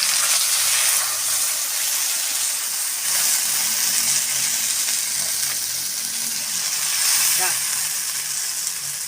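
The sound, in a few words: water poured into a pan of frying potatoes and fish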